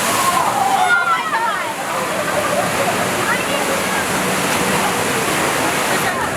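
Free water jets splashing at Universal Orlando theme park on a hot, humid Florida summer day, a loud, steady rush and slosh of water close by, with people talking over it.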